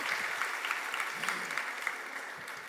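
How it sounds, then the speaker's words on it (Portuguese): Audience applause for Pedro at a church gathering, a steady dense wash of many hands clapping at moderate volume, continuous throughout without speech. "Palmas pro Pedro."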